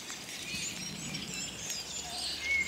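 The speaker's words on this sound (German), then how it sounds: "Da sind ganz viele Vögel." Many small birds chirp outdoors near a cave on a snowy April day, thin faint tweets scattered over a steady open-air hush.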